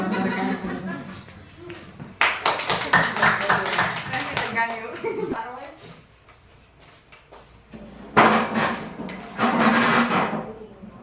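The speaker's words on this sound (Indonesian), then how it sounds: "kita kasih tepuk tangan lagi ya untuk Ibu Eka, Pak Moni, dan Bu Sylvia" Audience members at a school teachers' workshop clap in bursts, some overlapping talk and a louder, fuller round of clapping near the end, with quieter speech-filled gaps between.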